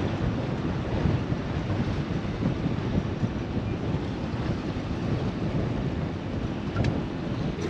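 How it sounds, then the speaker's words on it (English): Strong, blustery wind roars steadily around a 30 ft sailboat at anchor in Pago Pago, American Samoa, a dense, unbroken rush of gusts with no voices. "So it is still very, very blustery here in Pago Pago"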